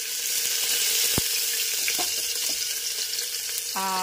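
Food fries in oil inside a pressure cooker, a steady bright sizzle running throughout, with a few soft knocks and a brief tonal clink near the end.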